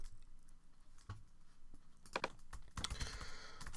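Computer keyboard typing, quiet scattered keystrokes that build into a brief burst of quick clicks near the end, heard close and alone.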